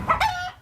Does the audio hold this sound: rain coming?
no